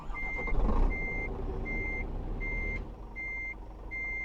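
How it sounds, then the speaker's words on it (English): Loud, steady reversing beeper on a truck in the Euro Truck Simulator 2 driving game, pulsing in regular evenly spaced beeps over a low engine rumble, with no talking. "Sorry about how loud that beeper and all is."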